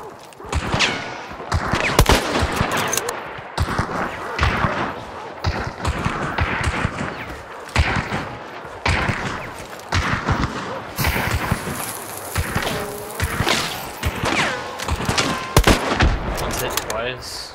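Rapid gunfire in Hunt: Showdown, with repeated sharp loud shots and bursts cracking at close range throughout, under a player's tense talk.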